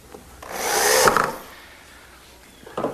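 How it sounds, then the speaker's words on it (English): A countersink bit drills a hole in wood during medicine cabinet assembly: one close, short burst of drilling that swells and then stops, followed by quiet and a small knock at the end. "I first drill a hole using a countersink bit, and then I'll fasten it with a 1-inch screw."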